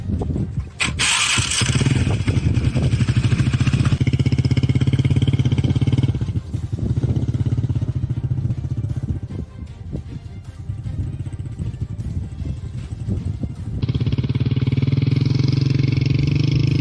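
A rented motorbike's engine starts and revs, the steady low drone swelling and easing across several throttle pushes, loud and close, with brief voices in between.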